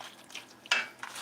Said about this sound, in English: Keep stirring, stir and stir and stir.